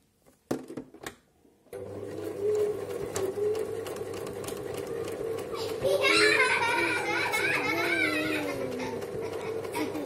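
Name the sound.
sewing machine stitching a pincushion notebook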